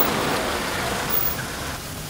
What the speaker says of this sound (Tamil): மழை சூப்பரா இருக்குல்ல?